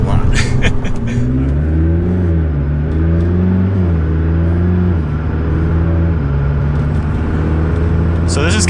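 A tuned McLaren MP4-12C accelerates in normal mode, its engine note close and loud, climbing steadily in pitch, easing back at shifts, then rising again through the run.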